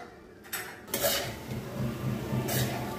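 A metal lid set down on a pan of amaranth leaves cooking on the stove, with a few sharp clinks and clatters of cookware followed by soft sizzling and stirring noises, no talking.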